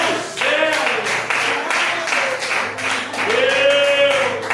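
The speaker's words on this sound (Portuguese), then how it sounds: "Dá um salve de palmas para Jesus." A church congregation claps together during a worship service, a dense run of hand claps with a voice and tonal sounds carrying over them.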